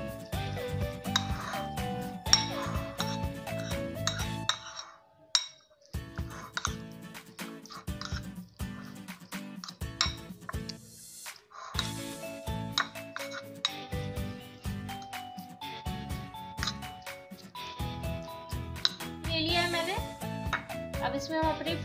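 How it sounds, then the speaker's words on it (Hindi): A spoon clinks and scrapes against a bowl while stuffed bun filling is mixed with sauces. The light taps come in quick bursts with short pauses between them. "अब इन सबको हमें अच्छे से मिक्स कर देना है।"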